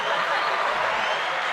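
A soundboard laughter effect plays: a dense crowd of chuckling and laughing voices, continuous and loud for a second and a half.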